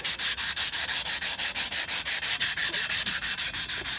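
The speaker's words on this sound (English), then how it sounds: "I'm going to take those scratches out with a finer sandpaper" Fine sandpaper rubbing scratches off a Porsche 2.0 litre aluminum alloy wheel, a steady back-and-forth rasp repeating about five strokes per second, close and even, with no talking.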